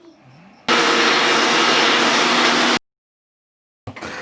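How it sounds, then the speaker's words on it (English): A mixer grinder blends shallots and a spice mixture, a loud, steady whirring roar that runs for about two seconds, cuts off abruptly into silence, then briefly starts again. "now we are going to grind this mixture together nicely"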